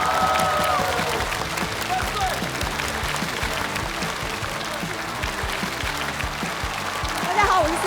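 A crowd applauds as a stand-up comedian is welcomed onto the stage at a Chinese-language comedy show abroad, steady clapping sustained throughout with a host's voice talking over it.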